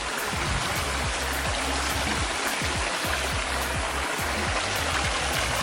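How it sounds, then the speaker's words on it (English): Alkaline spring water flowing at a hillside spring in Jamaica, a continuous close splashing and trickling with steady gurgling, moderately loud and unbroken, with no talk. "So this is the beautiful spring"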